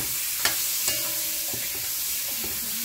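Beef frying in a pan with a soft, steady sizzle, a couple of brief clinks near the start, fairly quiet and close.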